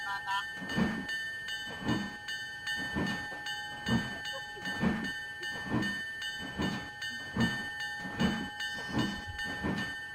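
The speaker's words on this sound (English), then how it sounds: "Or not the whistle, the bell." A train bell clanging in a steady, even rhythm, roughly once per second, with a bright ringing overtone lingering between strikes, moderately distant under a quiet hiss and rail rumble.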